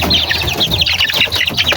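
Backyard chickens being let out of their pen, a busy flock clucking and chirping continuously at close range, with scattered rustling beneath the calls.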